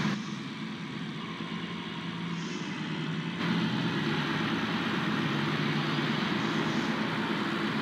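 Steady engine drone of an F450 oversized load truck in a modded video game, a continuous low rumble that thickens partway through and holds at an even, fairly loud level.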